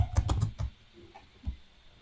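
Several quick keystrokes on a computer keyboard clatter close by in a short burst, then a pause and one or two isolated taps, with no talking.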